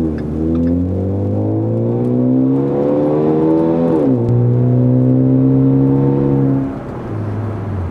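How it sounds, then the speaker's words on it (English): A 2013 Ford Fusion Titanium with a muffler delete revving at about half throttle, a loud raspy drone climbing in pitch, holding, then dropping and settling into a lower idle near the end. "So that was probably half throttle there, and it sounds almost exactly like that under full throttle"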